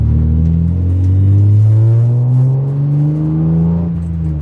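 A BMW E36 M3 with a Bimmerworld race exhaust rumbles loudly and close, revving up in a rising, steady drone that eases and swells again; no voices.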